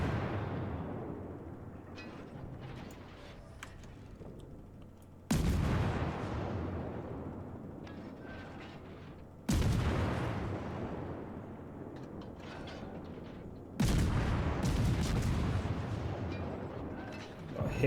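Warship guns firing in the video game World of Warships, three heavy booming salvos spaced several seconds apart, each decaying into a long rumble over a low background drone.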